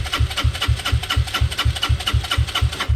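A Benelli motorcycle engine runs in steady rapid pulses as it is started, loud and close, with an even chugging rhythm throughout and no speech.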